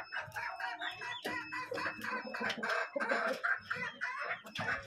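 Fancy silkie chickens and chicks at a poultry farm in Kolkata cluck and call in a busy, irregular chatter, with one crow-like call rising above the nearby flock.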